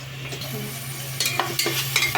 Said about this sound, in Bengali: তেলটা কিছুক্ষণ গরম হয়ে আসার পরে এবার আমরা পেঁয়াজ দিয়ে দিব। দেখুন পেঁয়াজ দিচ্ছি।